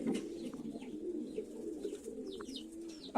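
Pigeons in a loft cooing softly, low repeated rolling coos running throughout at fairly faint level, with a few higher chirps scattered over the top and no one speaking.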